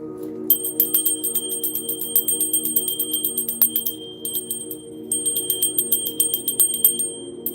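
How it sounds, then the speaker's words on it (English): A small bell rung for a spiritual cleanse sends out a rapid, steady series of bright metallic strikes. The strikes are loud and close, with a brief pause partway through, and carry over a low sustained hum. "Let's go ahead and ring the bell here."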